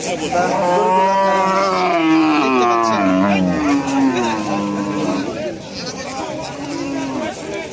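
Cows moo loudly in long, wavering bellows amid the murmur of a busy crowd of people at a cattle market.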